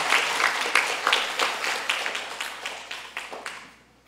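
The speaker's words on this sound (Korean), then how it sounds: "박수로 환영합니다." A church congregation claps to welcome a visiting family, the individual claps distinct and loosely rhythmic, fairly close, gradually softening and dying away at the end.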